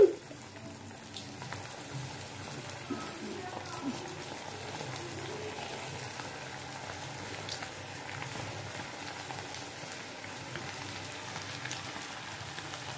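Paneer kofta balls frying in hot oil over a low gas flame, giving a steady, soft crackling sizzle that continues evenly throughout with no talk.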